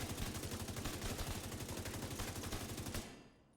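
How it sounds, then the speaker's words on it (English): Rapid full-auto assault rifle fire in The Division 2, a steady burst of fast, evenly spaced shots lasting about three seconds before cutting off into a brief fading tail. "I'm going to aim now and shoot without moving the mouse at all"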